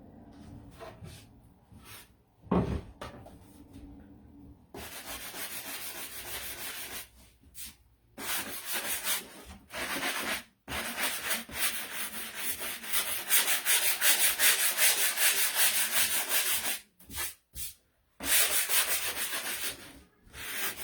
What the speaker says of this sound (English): well actually I might sand it first